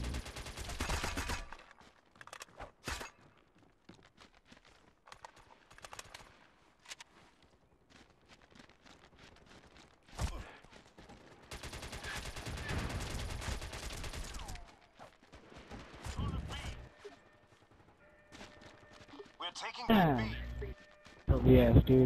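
Gunfire in the PS3 shooter MAG during a Sabotage match on Copper Hills, with scattered shots and bursts at moderate distance mixed with footsteps, while players talk throughout.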